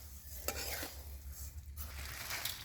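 Coriander seeds dry-roasting in a pan for a homemade masala, with soft scraping stirs and a faint sizzle, quiet and close, marked by a couple of sharper clinks of the utensil against the pan.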